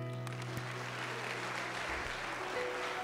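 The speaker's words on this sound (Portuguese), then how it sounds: "Aplauda Jesus" A church congregation applauds during a communion service, a steady wash of clapping heard from some distance under a sustained organ or keyboard tone.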